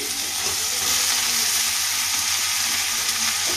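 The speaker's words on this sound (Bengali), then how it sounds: "থোড় আলু সেদ্ধটা দিয়ে দেবো, সেদ্ধ করে রেখেছি।" Boiled banana stem and potato added to a hot pan of oil for a fish-head chorchori, giving a loud, continuous close sizzle and hiss that fries steadily throughout.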